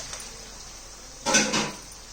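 Korameenu fish curry being stirred in a pan, a brief soft scrape and clatter of a utensil against the metal, two close knocks after a quiet stretch.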